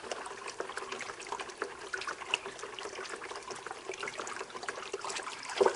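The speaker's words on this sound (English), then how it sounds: "And then we can pour it right into the machine." Sugar water syrup is poured into an Italian ice machine, giving a soft, continuous trickle and splash of liquid at close range, fairly quiet and unbroken by speech.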